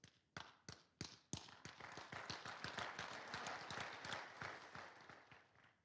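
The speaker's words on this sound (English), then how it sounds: "I appreciate the applause" Enthusiastic audience applause, many hands clapping at once, starting with a few sharp claps and swelling into steady, dense clapping that continues to the end.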